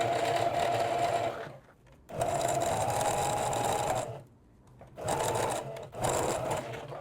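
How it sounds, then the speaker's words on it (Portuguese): A sewing machine stitches fabric in close, loud bursts, running steadily and stopping briefly between runs, with short reverse passes for backstitching at the seam ends. "vou costurar normal, bastante retrocesso e vou costurar"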